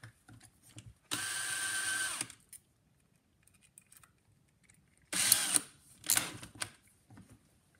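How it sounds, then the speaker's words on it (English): A flex hone spun in a power drill works the bore of a phonograph spring barrel end bearing casting, giving two sustained whirring bursts about a second long with a short gap of near silence between them, close and fairly loud. "Then what you want to do is you want to get your illustrious flex hone."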